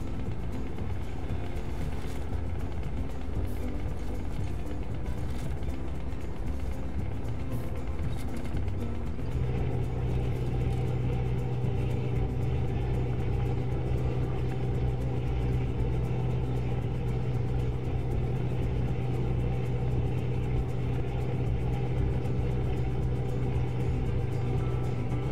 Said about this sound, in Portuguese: Lá vem um carro me ultrapassando.